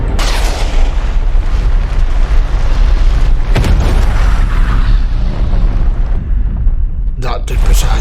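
Bomb explosions in the TV show The Expanse, heavy booming blasts with a sharp crack midway, rumbling loudly under scored sound, while people react and talk over it.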